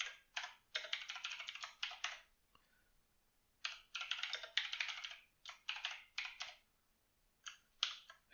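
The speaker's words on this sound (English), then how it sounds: "looking at my fingers while I was typing gets me every time" Typing on a computer keyboard in quick bursts of close, crisp key clicks separated by brief pauses, with no one talking.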